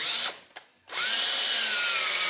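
A power drill running a tap through a hole on a 1948 Ford 8N tractor axle whines loudly, stops briefly twice, then spins up again and runs steadily at close range.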